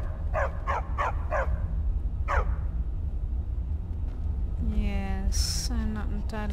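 A dog in the video game Skyrim lets out a quick run of several sharp barks, then a pause and more yips and whimpering cries, heard against steady background hum with speech around it.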